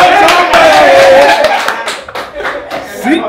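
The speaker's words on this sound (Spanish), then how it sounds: "¡Aplausos!" Close, brisk hand clapping rings out over people talking, then fades into a few scattered claps and light chuckles.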